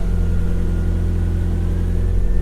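Volvo 240 engine idling with a steady, low rumbling hum, constant and close, with no revving.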